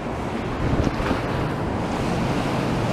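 Sea waves breaking and foaming on the shore beside Blackpool promenade, a steady broadband wash of surf with wind buffeting the microphone, continuous and fairly loud with no voices.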